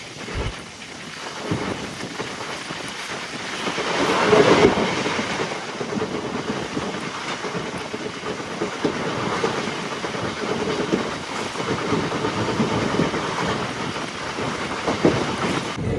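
A MEMU passenger train running between Bhimavaram and Nidadavolu, with a steady loud rumble and rhythmic clatter of wheels on the rails throughout, heard from inside the coach with no talk.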